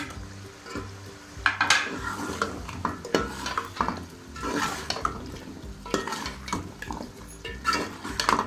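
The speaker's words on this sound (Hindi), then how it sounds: "अब हम इसके अंदर शामिल कर रहे हैं आलू" Three pav of potatoes are added to a softened spicy masala in a cooking pot for aloo palak, bringing continuous sizzling, frying and the scrape and clatter of stirring against the pot.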